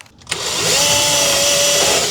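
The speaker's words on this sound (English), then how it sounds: "Pre-drill." Power drill pre-drilling a pilot hole into an oak drawer cabinet front, a close, loud steady whine that starts abruptly and holds a level pitch for nearly two seconds.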